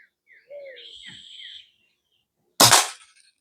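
A 50th Edition Red Ryder BB gun fires a single sharp, loud shot at a can, preceded by birds chirping and calling nearby in otherwise quiet surroundings.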